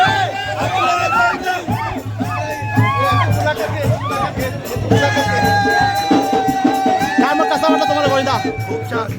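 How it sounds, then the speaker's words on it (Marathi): A village crowd at a traditional Dahi Handi festival in Kelavane, in rural Konkan, cheers, whoops and shouts continuously and loudly during a Krishna procession, with voices talking and calling out throughout. "बघा जल्लोष तसा आहे"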